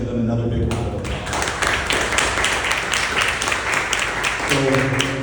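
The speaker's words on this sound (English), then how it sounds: "Let's give them another big round of applause." An audience at a business improvement district annual meeting in Sunnyside applauds elected officials, a steady burst of clapping that swells in after a spoken voice and fades as talking resumes near the end.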